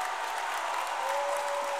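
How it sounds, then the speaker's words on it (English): A Brentwood high school boys basketball crowd roars and applauds after a three-pointer, a dense, steady wall of cheering filling the gym throughout, with a faint whistle-like tone running through it. "You see the Brentwood crowd erupting."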